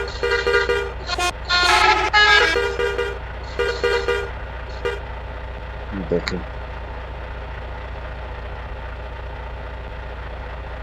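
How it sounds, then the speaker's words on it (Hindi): A long container truck on narrow city roads sounds a series of loud, musical multi-tone horn blasts over a low, steady engine idle, then the engine rumbles on alone; someone speaks briefly. "साउंड चेक करें गाड़ी का, इंतहाई खूबसूरत साउंड है गाड़ी का।"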